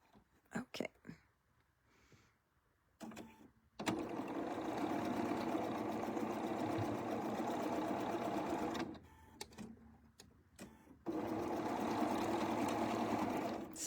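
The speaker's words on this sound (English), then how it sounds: "So I'm sewing the top and bottom pieces on." A sewing machine stitches quilted table runner top and bottom pieces in two long steady whirring runs, close up, with soft handling noises and quiet speech between them.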